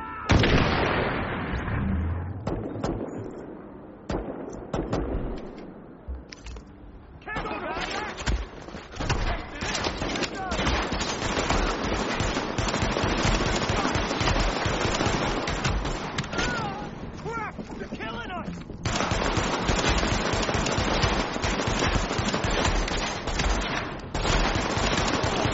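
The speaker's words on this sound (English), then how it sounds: "Get throwing grenades!" Gunfire and grenade explosions from the video game Tom Clancy's The Division fill a long, dense, loud stretch of shooting and blasts, with a voice talking over the combat at times.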